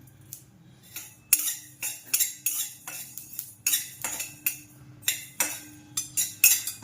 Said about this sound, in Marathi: आपले तीळ चांगले भाजत आलेले आता तडतड वाजायला लागले तीळ